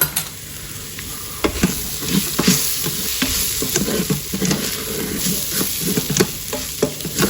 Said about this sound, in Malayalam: ഇനി 1 ടീസ്പൂൺ ഓഫ് ഗരം മസാല പൊടിയും കൂടി ഇട്ട് നല്ലോണം മിക്സ് ചെയ്ത് കൊടുക്കുക